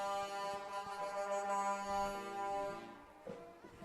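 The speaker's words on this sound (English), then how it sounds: "I'm getting a little distracted with the honking going on over here." Car horns at a parade in Berwick and Somersworth, sustained tonal honks sounding together with a brassy, layered blare, moderately distant, fading near the end.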